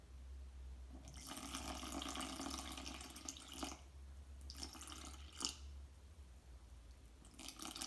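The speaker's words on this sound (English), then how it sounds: "I'm gonna add 160 grams of water" Water poured into a sourdough starter during feeding, a soft splashing stream that comes in short bursts with pauses between, faint and close over a low background hum.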